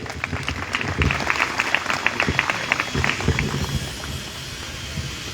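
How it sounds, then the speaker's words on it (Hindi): An audience claps at a grand opening of an RCM PUC store in Baroda, Gujarat, with steady, moderately loud applause that thins out toward the end. "एक बार जोरदार ताली।"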